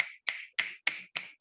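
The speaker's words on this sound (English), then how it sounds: "in the poetry lounges, we snap" Five crisp finger snaps at an even, brisk rhythm, close and clear against near silence, from a poetry lounge setting.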